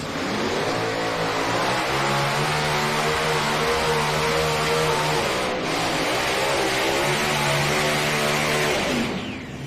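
A pulling tractor or truck engine revs hard at a county fair truck and tractor pull, a loud sustained roar climbing in pitch, dipping briefly midway, then surging again before cutting off.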